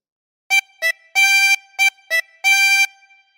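A harmonica plays the first phrase of the nursery tune "This Old Man" using blow and draw notes on holes 4 to 6: short bright notes and longer held tones in an uneven rhythm, close and clear with nothing else heard.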